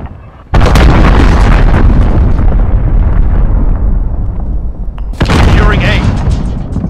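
A cruise missile strike in the video game Call of Duty: Modern Warfare lands as two heavy, booming explosions a few seconds apart, each with a long rumbling tail. Both are loud and close.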